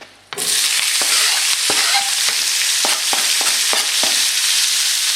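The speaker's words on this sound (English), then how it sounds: "I'm now going to brown some onions in this" Yellow onions browning in beef oil in a skillet: a steady, loud frying sizzle with repeated clicks and scrapes of stirring throughout, no voices.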